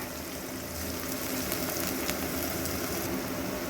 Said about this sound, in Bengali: খুব ভালো করে তেলের মধ্যে মশলাটা কষিয়ে নেব